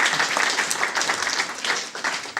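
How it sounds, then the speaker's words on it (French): A church congregation claps and cheers for the Lord in a steady, loud burst of applause during a French and Dutch service, sustained throughout with no talk over it. "applaudisseren voor de Heer."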